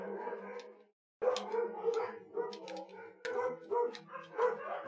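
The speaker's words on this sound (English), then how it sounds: "Like suddenly all the dogs started like going together." Dogs bark in The Lost Vikings 2 video game, several barks in quick irregular succession after a brief pause, clear and fairly close, with no talking over them.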